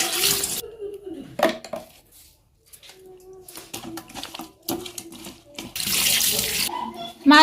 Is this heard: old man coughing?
no